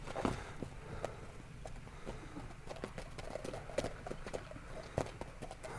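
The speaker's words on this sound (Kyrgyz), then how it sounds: "Ошол жактан акырын бастырып келесизби? Баскандарын жакшылап көрсөтөлчү." A large local horse being walked slowly, its hooves clip-clopping in a steady, moderately close rhythm over faint background noise.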